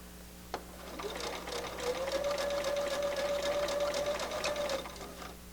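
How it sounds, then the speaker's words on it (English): Sewing machine running steadily for several seconds as it stitches along the crease of fabric for a curved quilt seam, a near, continuous whirring motor with a soft click at the start and no talk. "I sew right along the crease there"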